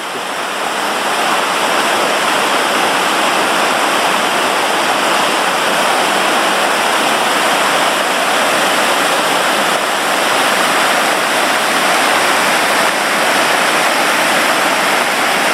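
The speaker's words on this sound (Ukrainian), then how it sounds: "Бачите, як водоспад пробивається крізь цю скалу." Waterfall in the Grand Canyon of Crimea pushing through a rock face, a loud, constant roaring rush of falling water heard close up, steady throughout with no voices.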